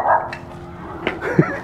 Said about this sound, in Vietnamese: Coi chừng chó.